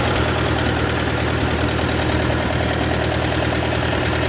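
A Ford 660 tractor engine idles loudly and steadily up close, a dense low rumble with a rhythmic knock, as it runs down its remaining fuel.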